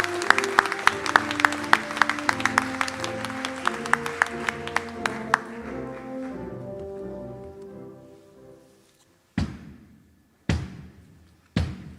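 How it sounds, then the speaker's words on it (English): Commencement audience at a university graduation ceremony claps in a dense, loud burst for several seconds, thinning and fading out, followed by a few sharp isolated thumps near the end. "Please give everyone a round of applause."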